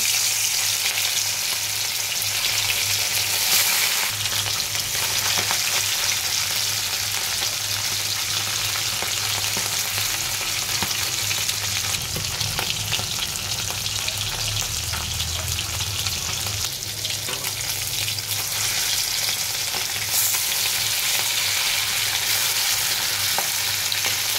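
Fish fries in hot oil, one piece after another, with a loud, dense, unbroken sizzle close by that runs steadily throughout, alone and without talk.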